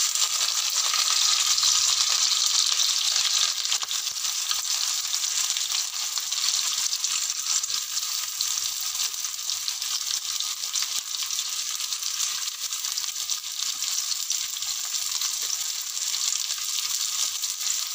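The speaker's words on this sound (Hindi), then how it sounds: "अब इसमें हम प्याज ऐड कर देंगे" Onions frying in hot oil in a kadhai, with a steady, loud, continuous sizzle holding evenly throughout and no talking.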